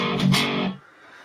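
An 8-string electric guitar on its bridge pickup with volume fully up, through a Laney Ironheart amp, gives one short, loud, distorted chord that rings for under a second before cutting off.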